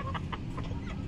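Ornamental hens clucking close by, a quick series of short soft clucks in an irregular rhythm over a low background hum.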